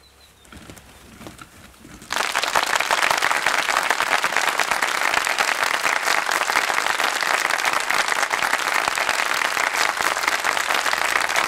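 After a brief quieter stretch, a large audience breaks into loud, sustained applause at a stage function where a guest lights a ceremonial lamp, with dense clapping that continues steadily to the end.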